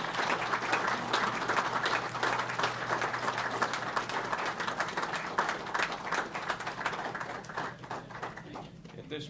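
Outdoors at the Jamestown Airport dedication of Robert H. Jackson Field, a crowd gives a round of applause for a C-47 aircraft, sustained mid-distance clapping over a low steady hum, with birds chirping faintly.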